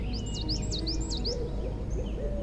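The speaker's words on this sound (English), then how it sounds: "I like the bird noises then." Birds call outdoors in a quick series of bright, warbling chirps, fairly close and clear over a low, steady background hum, with no talking.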